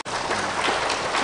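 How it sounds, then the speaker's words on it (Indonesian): An audience applauds at an Indonesian national-awareness religious forum, a short burst of dense, even clapping that starts abruptly and holds steady. "Tepuk tangan tuh."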